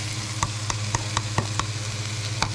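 Ginger, onion and garlic sautéing together in a pan, a steady sizzling hiss broken by a few sharp, evenly spaced stirring taps, moderately close with no speech.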